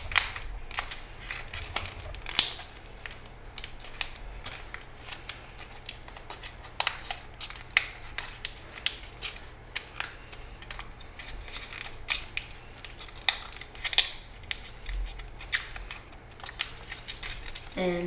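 Paper is folded and creased for an origami jaguar, making soft crinkles and sharp snapping clicks at irregular intervals, close and fairly quiet, with talking now and then.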